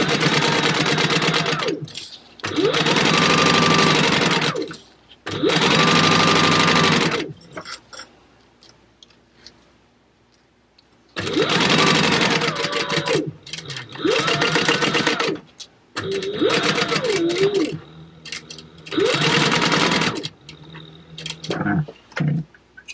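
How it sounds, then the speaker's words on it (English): A sewing machine backstitches a seam on a crossbow bag in several bursts of whirring stitching with brief stops and a longer quiet gap partway through, heard alone and close. "we're going to start making sure that you backstitch"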